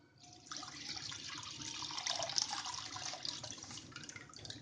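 Full cream milk is poured into a kadhai, giving a soft, steady liquid splashing and trickling that runs for about four seconds, faint and close.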